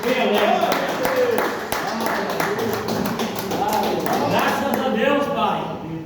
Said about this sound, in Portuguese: com palmas para Jesus